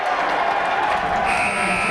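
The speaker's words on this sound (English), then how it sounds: "Will Taylor able to bury a three before the sound or the buzzer sounds" A basketball game buzzer sounds at halftime of a men's college game between Cal U and Edinboro, a sustained electronic tone rising over a loud, steady arena crowd while an announcer talks.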